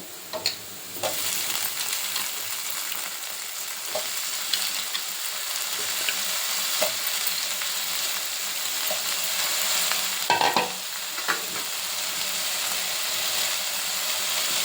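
Carrot, capsicum and potato curry fries in hot oil, a continuous close sizzle broken by occasional clicks and scrapes of stirring in the pan, with a sharper burst of clatter midway.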